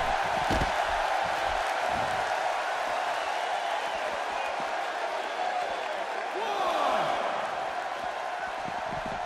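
Arena crowd in the WWE 2K16 wrestling game, a sold-out audience at a match, roars steadily and loudly for the full stretch, with a few swells and sharp hits from the ring cutting through the din.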